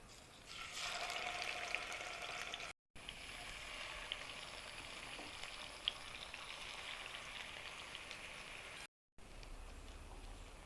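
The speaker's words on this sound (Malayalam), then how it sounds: "ഒരു കടായി അടുപ്പത്ത് വെച്ച് എണ്ണ ഒരു മൂന്ന് ടേബിൾ സ്പൂൺ വെളിച്ചെണ്ണ വെച്ചതിന് ശേഷം ചൂടായതിന് ശേഷം നമുക്ക് ഈ മീനൊന്ന് ഫ്രൈ ചെയ്തെടുക്കാം" Fish frying in about three tablespoons of hot coconut oil in a kadai, a steady faint crackling sizzle with occasional pops, continuing alone with two brief cuts.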